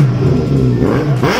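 A motorcycle with a loud Scorpion aftermarket exhaust revs close by, a brief loud rasping rise in pitch followed by a fresh burst of throttle.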